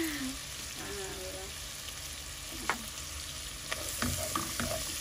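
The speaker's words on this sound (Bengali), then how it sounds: "আমাদের চিংড়ি মাছ পেঁয়াজ ভাজা হয়ে গেছে" Prawns and onion fry in a pan, a steady hiss and sizzle with occasional stirring clicks, close and continuous without talk.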